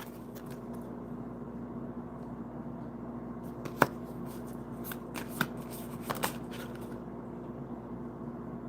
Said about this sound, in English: we're going to put this card and we're going to shuffle